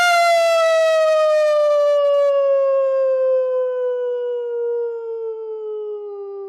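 A single long howl, a person imitating a wolf at a group full-moon howl, gliding slowly downward in pitch and fading gradually.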